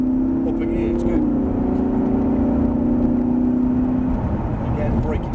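A Lamborghini Huracan on a race track at Prestwold Hall drones with a steady loud engine note that steps down in pitch around a gear change, while a voice talks over it.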